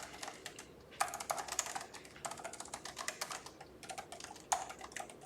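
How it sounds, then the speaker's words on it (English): Clattering keystrokes on a computer keyboard, quiet and close, typed in uneven bursts with short pauses between them and no voices. "You're typing. I am typing."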